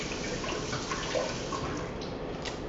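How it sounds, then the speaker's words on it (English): Tap water runs steadily into a sink while hands are rinsed, a close, continuous splashing hiss lasting a few seconds with no voices. "let me rinse my hands."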